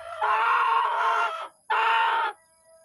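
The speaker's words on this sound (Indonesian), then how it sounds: "Nah, ayamnya sehat-sehat. Ini jagoannya ya." Two long, loud, sustained crowing calls from a rooster among village chickens, the first longer than the second, heard close up against quiet surroundings.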